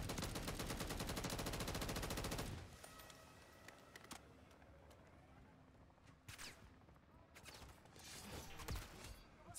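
Rapid automatic gunfire from the video game Modern Warfare Zombies, a dense, loud burst of rounds lasting a couple of seconds, then sparser scattered shots and mechanical clanks over a quieter background.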